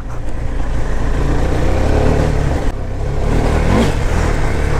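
A KTM Duke 390 BS6 motorcycle engine revs hard and close on a slippery off-road climb, a loud continuous growl rising in pitch with no talking.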